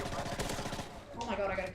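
Gunfire in a first-person shooter video game, a quick rapid burst of shots followed by a brief trailing effect, with a voice faintly present underneath.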